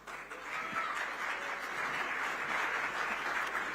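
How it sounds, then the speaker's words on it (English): An audience at the Indian of the Year 2025 awards gives steady, sustained applause, a dense wash of clapping that holds at an even level from start to finish. "Can we please have a huge round of applause once again for Rishabh?"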